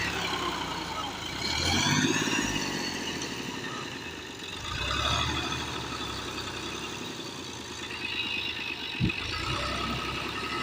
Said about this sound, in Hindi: दोस्तों ट्रैक्टर फंस गया है।